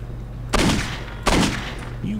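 Two loud, close gunshot bursts in the video game Postal 2, a second apart, each trailing into a brief decay over a steady low hum, with a faint tone at the end.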